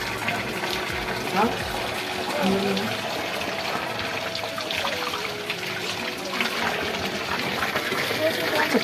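Water flows at Vyas cave in a steady, full rush that continues throughout. Voices can be heard beneath the running water.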